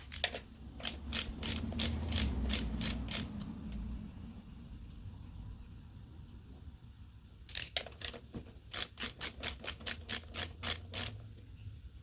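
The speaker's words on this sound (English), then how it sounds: "that's done by removing two fasteners down here" Fasteners being removed from the pulley of a Troybilt TB30R tiller with a ratchet, giving quick series of sharp metallic clicks in two bursts, with a low mechanical rumble between them.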